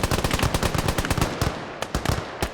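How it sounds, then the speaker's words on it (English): Rapid bursts of machine gun fire rattle close and loud through a WWI battle on the Isonzo front between Italian Alpini and Hungarian troops, with dense repeated shots and a few short pauses. "Oh, we got a nice machine gun here"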